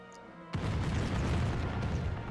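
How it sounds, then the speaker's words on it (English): Black powder cannons boom in a WarCraft Total War battle, a heavy blast that erupts suddenly and rolls into a sustained, dense rumble of battlefield noise. "I love the fucking black powder weapons in this game so much. There's like cannons blapping."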